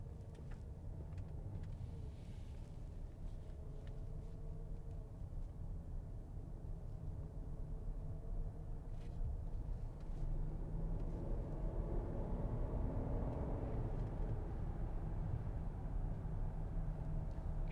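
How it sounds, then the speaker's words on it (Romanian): Inside the cabin of a 2019 Rolls-Royce Cullinan accelerating at near full throttle, a faint, muffled low engine rumble and road hum hold steady and swell slightly, with no talking. "Ce ați auzit mai devreme a fost mașina cu accelerație aproape la maxim."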